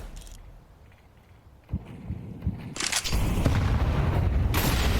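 Grenade blasts in a Counter-Strike esports match: a few muffled thumps land first, then a louder rumbling explosion rolls on and fills the rest of the stretch, with no talk over it.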